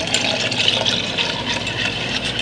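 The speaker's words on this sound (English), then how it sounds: "And add the dissolved cornstarch and milk." Dissolved cornstarch and milk poured into a pot of hot chocolate, a continuous close liquid gush with a bright splashing texture and no talking.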